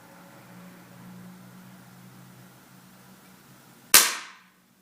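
A jukbi bamboo clapper is struck once during meditation practice, a single sharp crack after quiet room tone, ringing briefly before fading into silence.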